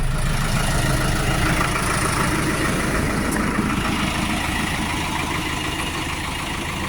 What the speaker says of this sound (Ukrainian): Трактор не шумний, не гучний, всередині тихенько, знаружі теж він не сильно шумний.